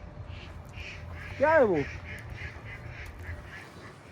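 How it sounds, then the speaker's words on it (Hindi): A single nasal duck quack sounds clearly near, sliding downward, with a few quieter calls around it over steady outdoor background noise, while a man briefly asks a question. "ओहो बतखें, वो देखो बतखें"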